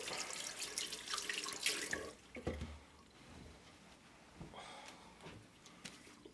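Tap water runs into a sink as hands are rinsed, a splashing gush for the first two seconds, then quieter intermittent trickles and drips with brief bursts of flow.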